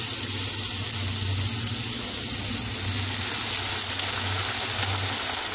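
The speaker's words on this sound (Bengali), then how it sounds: "এবার আমি জল দিয়ে দেবো।" Water pours in a steady, continuous gush into a pan of sautéed pumpkin and potato, heard close and alone.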